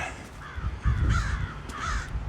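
Crow cawing in a shaded winter park near a waterfall, a few harsh repeated caws over about two seconds, fairly close and clear against low outdoor rumble.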